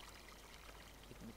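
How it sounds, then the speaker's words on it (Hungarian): Water pours steadily while a tank refills at a well in Farming Simulator 17, a soft, even rushing trickle at low volume with no talk over it. "Az ilyen kutaknál töltheted újra a víztartályokat."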